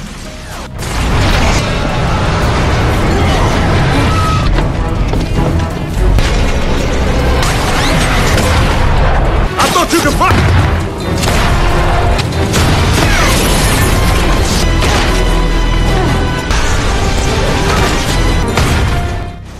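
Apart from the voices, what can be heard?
tank fire and explosions in a war film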